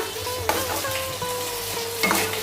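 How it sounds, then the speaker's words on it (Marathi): A spoon stirs ground roasted dry coconut paste into a sizzling baby prawn curry in a pan, steady frying hiss with two brief scraping clanks, close up and without talk. "तर व्यवस्थित मिक्स करून घेऊया"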